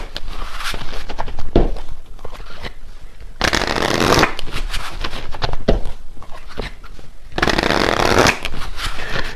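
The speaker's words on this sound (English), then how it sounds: "And yeah, when I'm shuffling here," Tarot cards get shuffled in loud, close riffling bursts, with two long rushing shuffles separated by quieter handling and card slaps.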